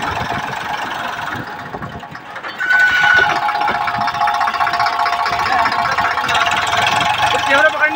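An Eicher tractor pulling a fully loaded trolley idles with a steady mid-pitched engine drone that grows louder partway through, with people talking outdoors nearby.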